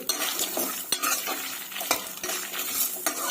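Fried coconut chutney ingredients stirred in a pan, with repeated close spoon scrapes and clinks against the metal over a light frying sizzle.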